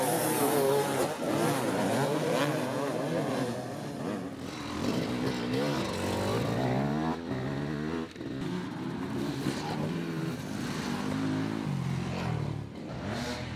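Enduro motorcycles revving hard at the start of the Taillhard Extreme hard enduro race, a loud dense chorus of engines rising and falling in pitch together, close and continuous.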